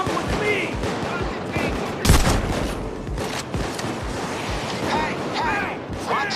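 Gunfire bursts in PAYDAY 2 during a prison-breakout heist, a loud crack near the two-second mark amid a dense, continuous din with shouting voices scattered throughout.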